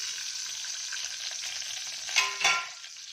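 Mustard seeds, chana dal, urad dal, cumin and fenugreek frying in hot oil in a pan, a steady close hiss with a couple of brief popping bursts near the end.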